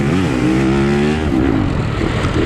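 A Yamaha YZ250F dirt bike racing in a sprint enduro in the Arcadia Bark Busters D4 Enduro Series, its engine loud and close, revving up through rising pitch then bogging and rasping as the throttle changes.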